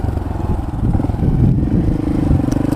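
Honda Grom motorcycle riding off-road over mulch, its small engine droning loudly and close with a pulsing rumble and rattling clatter, no talking.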